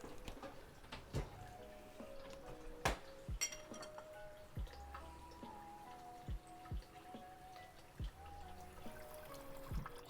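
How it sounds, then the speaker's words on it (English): Water drips from clams in a kitchen while cooking a garlic and herb clam dish, with faint scattered plinks and drops landing at irregular intervals, soft and close, over a quiet background with no talking. "If you hear the drip sounds, it's from the clammies."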